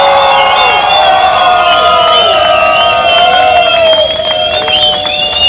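A crowd at a live event cheers and shouts, with whoops and children's voices over scattered clapping; the sound is loud, close and continuous, with many high voices layered together.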